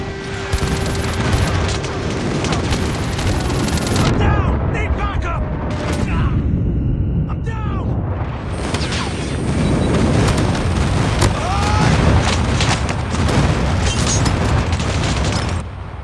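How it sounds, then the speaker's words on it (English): Airstrike explosions in the Call of Duty Android game: dense, continuous booming blasts and gunfire rumble for the whole stretch, loud and sustained, with scattered combat sounds layered over it. "Enemy airstrike incoming"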